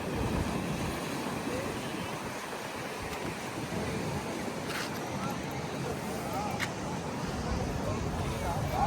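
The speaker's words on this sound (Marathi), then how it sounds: "एक नंबर लाटा आहे तिकडे" Ocean waves breaking on a beach at Kanyakumari in the evening, a steady broadband roar of surf with wind noise, continuous and fairly loud with crowd chatter beneath.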